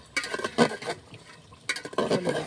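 Mutton kosha curry is stirred in a pan with tomato and coriander leaves, giving two bursts of scraping and sloshing with a short pause between them, close up and moderately loud.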